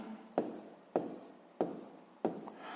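Pen strokes from writing out a math calculation sound as four evenly spaced, close scratches on paper, each a quick stroke that fades away, quiet and without any talking.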